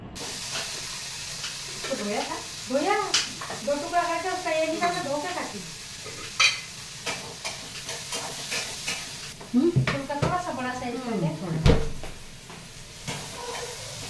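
Dal tempering sizzles and hisses in hot oil with steady frying crackle and stirring throughout, while a voice sings or hums over it in two separate stretches.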